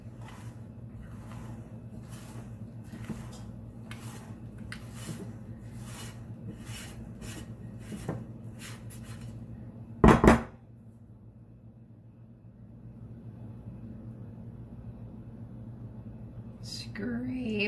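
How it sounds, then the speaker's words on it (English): A spatula scrapes brownie batter around a mixing bowl in a series of short, soft rubbing strokes, close and fairly quiet over a low hum, with one sharp knock partway through. "Scrape your bowl."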